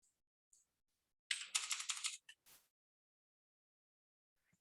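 Fingers type a short burst of keystrokes on a computer keyboard while entering a value in Cinema 4D, a quick clatter of close, crisp taps followed by a couple of isolated key presses in an otherwise quiet room.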